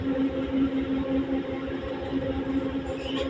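A train rides from Hainfeld to Sankt Pölten in Austria, with a steady low rumble and rolling clatter heard from inside the carriage, loud and continuous.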